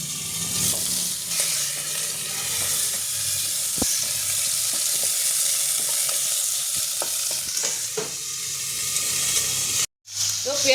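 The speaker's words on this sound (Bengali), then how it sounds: "মাছটা আমি ছেড়ে দিলাম" Fish sizzles loudly in hot oil with cumin seeds in a wok, a steady broadband crackle with scattered sharp pops and spits, cutting out briefly near the end before resuming.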